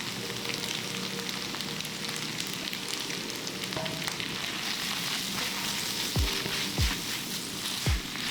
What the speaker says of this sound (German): Wir bringen die Spaghetti direkt in der Pfanne mit der Soße zusammen